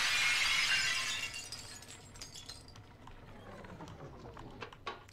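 A stained glass window smashes in the video game Bioshock 2 with a loud, bright shatter. Tinkling shards rain down and patter after it, fading over a few seconds.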